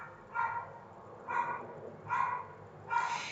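A dog barks four times at steady intervals, muffled and somewhat distant, over a low room hum.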